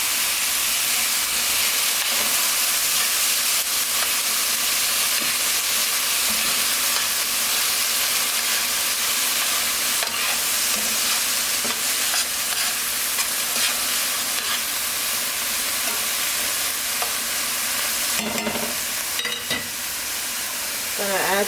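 Chopped fresh plum tomatoes fry and get stirred in a pan for a vegan omelette: a steady, loud sizzle and hiss that runs throughout, with occasional scraping strokes from the stirring.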